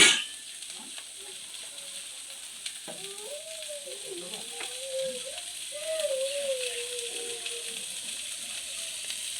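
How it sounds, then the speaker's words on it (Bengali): Sliced potatoes frying in oil in a pan give a steady, close, crackling sizzle that continues throughout, with a faint tonal whine in the middle. "আজকে ভাজা করছি"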